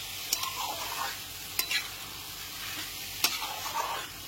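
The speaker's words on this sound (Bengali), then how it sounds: "চাল আর ডালটা দেওয়ার পরে মশলার সাথে খুব ভালো করে কষাতে হবে।" Rice and lentils are stir-fried with chicken keema and spices for khichuri, with a soft steady sizzle under three sharp scrapes of a spoon against the pan, each followed by shuffling stirs.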